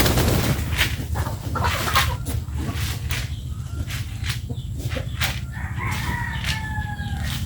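On a farm, egg-laying chickens cluck softly against a steady background hum while a rooster crows once near the end, its call drawn out and fairly close.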